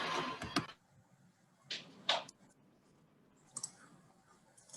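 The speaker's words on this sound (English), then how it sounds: "I have one of those Roomba vacuum cleaners and it goes off every morning. So it was right next to me. That's what you were hearing." A Roomba robot vacuum cleaner working right next to a microphone during a call gives off scattered bursts of clicking and whirring, with quiet gaps between.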